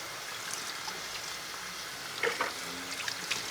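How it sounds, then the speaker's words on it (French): Cold running water rinses red lentils until the foam clears, a soft steady wash with a few faint clinks near the end. "Moi, j'insiste, tant que ça mousse, je rince"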